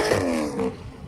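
A car engine revs up then eases off, a rising harmonic tone that peaks briefly before fading, close and fairly loud with no talk.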